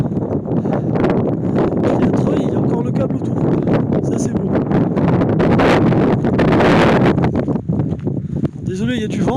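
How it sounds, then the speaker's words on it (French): Strong wind at the Col de la Bonette mountain pass buffets the microphone in rough, rumbling gusts, loud and close, while a voice talks intermittently beneath it. "Désolé, il y a du vent."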